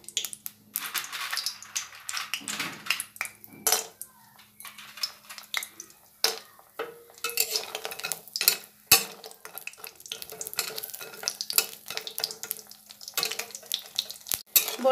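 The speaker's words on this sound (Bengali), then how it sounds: "তেলটা গরম হয়ে গেছে, এর মধ্যে আমি বড়িগুলোকে ভেজে নিই।" Lentil boris fry in hot mustard oil while being stirred, a close crackling sizzle punctuated by repeated scrapes and clinks of a spatula against the pan at an uneven rhythm.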